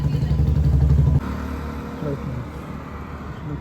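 Jawa motorcycle running on a road trip from Tiruvannamalai, its steady mid-range engine hum loud in the first second, then continuing lower and steadier under wind and road noise.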